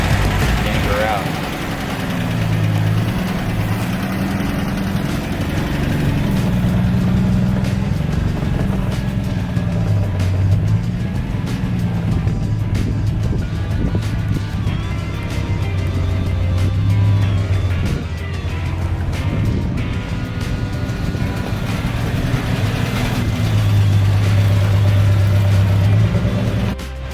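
A 1970 Dodge Duster's engine idles and rumbles as the car pulls up, loud and close, with throttle swells rising and falling, while people talk over the running motor.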